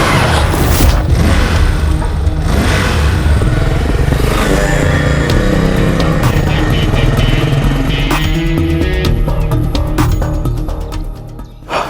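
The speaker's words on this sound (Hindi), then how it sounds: "बाइक में जरा स्पीड में चलाता हूँ।" A motorcycle ridden fast, its engine roaring loudly and continuously close by, with revving and rattling clatter throughout and a dip near the end.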